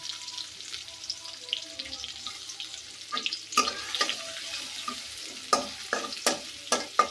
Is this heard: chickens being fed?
no